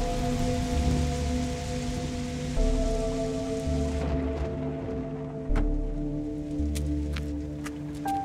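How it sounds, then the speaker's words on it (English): Rain pouring steadily in a post-apocalyptic audio drama, a dense hiss with sharp drip impacts, under sustained low droning tones that shift in pitch. "let's get out of the rain"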